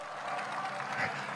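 A crowd claps at an outdoor political campaign rally for presidential candidate Lee Jae-myung in Siheung, Gyeonggi Province, in a short, dense burst of applause.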